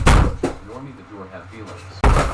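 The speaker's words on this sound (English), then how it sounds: "he just walks around and headbutts his door and starts ripping a hole in it" A person headbutting a door makes heavy, close thuds: one at the start, another just after, and a final loud bang about two seconds later, with a muffled voice in between.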